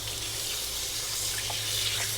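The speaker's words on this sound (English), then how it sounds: "Had to rinse off pumpkin cake from my hands." Tap water runs over hands as pumpkin cake batter is rinsed off at a kitchen sink, a faint, steady splashing hiss without speech.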